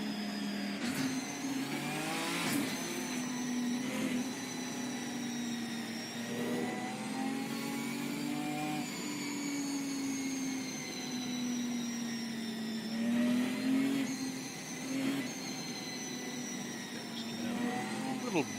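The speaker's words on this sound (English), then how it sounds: "Blip of the throttle just to try and get some power going through those tyres." A race car's engine drones steadily throughout a formation lap at Donington in Assetto Corsa Competizione, with engine tone rising and falling in occasional throttle blips, heard continuously at moderate level.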